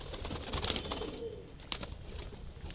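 Pigeons coo softly in a bird-breeding loft, with low murmuring calls over a steady noisy background.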